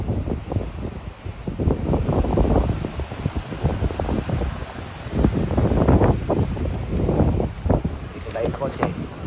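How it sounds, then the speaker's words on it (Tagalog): Strong wind buffets the microphone on a small sailboat out on the water, with gusting rumbles and flutters throughout and people talking over it. "Grabe naman kasi ang hangin dito eh."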